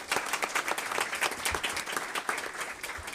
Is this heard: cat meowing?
no